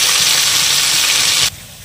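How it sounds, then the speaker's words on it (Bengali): Potatoes frying in a pan for a katla fish curry give a loud, steady broadband sizzle that runs close and unbroken, then drops away sharply near the end, with no talking. "এবার আমি আলুটা ভেজে নেব।"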